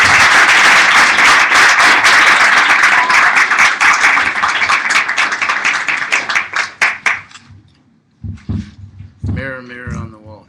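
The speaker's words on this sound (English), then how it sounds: "So let us join in a round of applause to welcome Charidev." An audience at a spiritual talk bursts into loud, dense applause that holds for about seven seconds, then thins into scattered claps and fades as a speaker begins talking.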